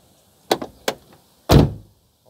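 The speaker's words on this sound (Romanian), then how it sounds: "Acum vom închide ușa." A car door on a rusty Dacia Logan is worked and shut: two light clunks of handling, then one loud solid slam near the microphone, with no talk.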